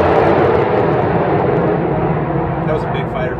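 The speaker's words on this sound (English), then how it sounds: "That was a big fighter jet." A big fighter jet roars overhead, a loud broad rumble filling the whole clip and slowly fading toward the end.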